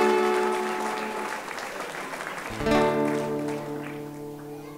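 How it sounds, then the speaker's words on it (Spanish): Applause from the audience for two young singers, a brother and sister, at a verseadores folk-singing gathering in Valsequillo, steady clapping that carries on as music comes in partway through. "A ver ese aplauso para ellos dos."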